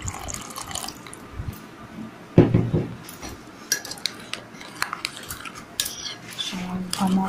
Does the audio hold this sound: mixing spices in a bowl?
yes